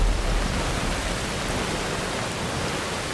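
Steady rain falling in the video game Skyrim (Nolvus modded), a broad even hiss that stays constant and fairly loud throughout with no voices.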